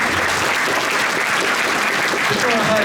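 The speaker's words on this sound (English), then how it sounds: "round of applause for yourselves" Audience applause at a youth jazz orchestra concert at a Sunday jazz event in Wigan, steady dense clapping, loud and close throughout, with crowd noise and a few voices mixed in.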